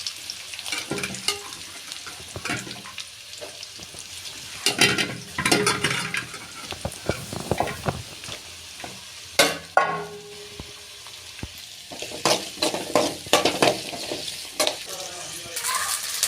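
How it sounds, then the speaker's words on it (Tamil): Onions and green chillies fry in oil with mustard seeds, a steady close sizzle broken by bursts of stirring and scraping in the pan, with no talking. "எண்ணெய் ஊற்றி கடுகு போட்டு வெங்காயம் பச்சை மிளகாய் போட்டுருக்கலாம். நல்லா வதங்கட்டும்."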